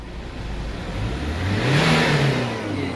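Engine of a 2006 Chevrolet Winstorm revving as the accelerator is pressed, a mid-pitched engine note climbing over a few seconds, close and fairly clear.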